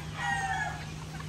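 A rooster on a muddy range during rainy weather lets out a single short crow, close and clear, over a low steady background hum.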